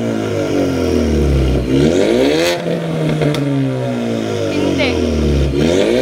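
A Ford Mustang's exhaust revs up and down in loud, close sweeps, the engine climbing and falling several times with a raspy roar, while someone talks over it.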